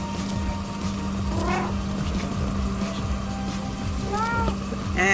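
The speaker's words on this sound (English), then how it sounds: "There's gonna be a lot of meowing." Cat meows from the VR game I Am Cat, a few short rising calls around the middle and end, heard over a steady background hum and game noise.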